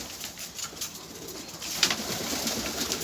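Domestic pigeons cooing softly with occasional wing flutters, heard at moderate distance amid light ambient noise in a loft-like setting.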